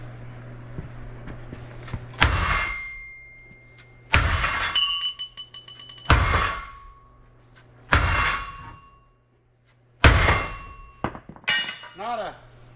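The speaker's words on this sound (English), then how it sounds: "I'm going to hit it with a hammer and see if it'll move" A hammer strikes a welded-on trailer hitch in five heavy metallic clangs spaced about two seconds apart, each ringing briefly, with lighter taps between them.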